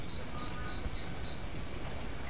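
Crickets chirp in a steady series of five sharp, evenly spaced trills, then go quiet over a constant hiss of background noise, with no voices.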